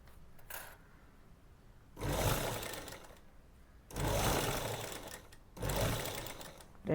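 An electric sewing machine stitches pieces of men's shorts together in three loud whirring bursts, with quiet pauses between the runs.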